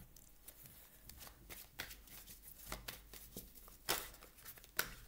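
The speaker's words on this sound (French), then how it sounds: "Alors, je remélange le jeu." A deck of tarot cards is shuffled by hand, a run of soft riffling flutters and taps with two sharper card snaps near the end, close and quiet with no speech.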